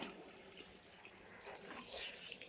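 Water splashes and runs steadily while a bicycle is washed at home, a continuous wet spattering with a brief louder rush near the end, with faint voices in the background.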